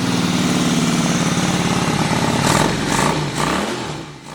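A Honda Shadow motorcycle, brought back after ten years unused, idles loudly and close by after being started on choke, a steady rumbling beat that rises briefly in a couple of small revs before settling.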